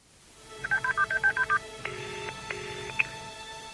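A quick run of about eight touch-tone dialing beeps, followed by two longer steady tones and a brief click, all clear with no talking.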